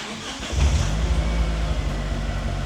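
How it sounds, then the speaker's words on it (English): Mitsubishi Evo left sitting 17 years, cranked while in first gear with a seized clutch, giving a loud, low, labored starter-and-engine churn that begins abruptly and drones steadily, close by. "I'm going to turn the car off, put it in gear, see if the car starts in gear"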